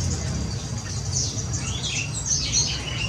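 Tepus babblers in an aviary give thin, high chirps and squeaky calls in scattered bursts, moderately near, over a constant low hum.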